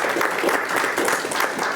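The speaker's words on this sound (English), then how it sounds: "Can we please express our gratitude with a round of applause or a gesture that reflects" An audience claps in sustained, even applause, fairly loud and close, with no voices over it.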